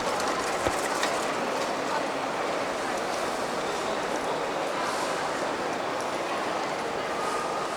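A steady, dense rumble and rush of a Lisbon metro train in motion, continuous and fairly loud, as heard from inside a carriage.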